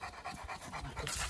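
A dog pants in quick, steady rhythmic breaths close by, with no talk over it, during a visit from a guest at home.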